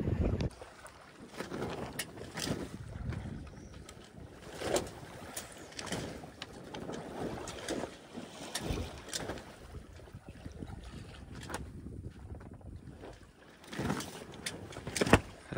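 Sails on a solo sailboat flap and rattle at sea after a squall, an irregular run of soft thumps and luffing bursts over a constant rush of wind and water.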